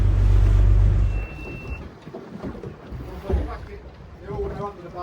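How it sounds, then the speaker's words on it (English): Low engine drone of a fishing charter boat in shallow water, loud and rumbling at first, then dropping to a quieter hum under water and wind noise, with voices talking. "probably the engine noise"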